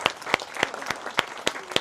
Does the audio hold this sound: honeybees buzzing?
no